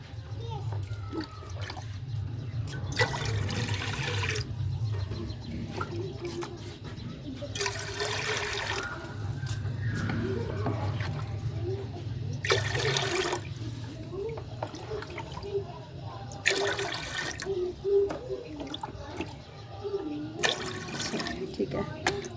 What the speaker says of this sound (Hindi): उनमें मैं 6 गिलास पानी के ऐड करूँगी।